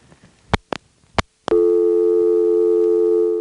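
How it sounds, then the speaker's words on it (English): A few sharp clicks and switching pulses on an ITT Pentaconta crossbar telephone switch from 1977, then a steady, loud dial tone hums continuously to the end. "The dial tone sort of came back on as if we didn't start over completely"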